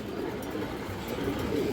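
A lively, restless female pigeon, a little dirty from feeding her young, gives a brief low coo nearby, soft and continuous.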